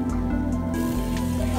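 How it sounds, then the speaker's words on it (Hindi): Water drains off soaked lentils and chicken in a kitchen, giving a close, steady trickling and splashing pour with faint drips, continuous for under two seconds and without talk. "इसका हम पानी गिरा लेंगे।"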